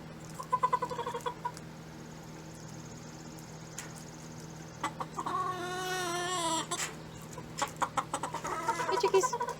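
Nearby chickens cluck in short, repeated bursts while they eat, with one longer rising call in the middle, over a low steady hum.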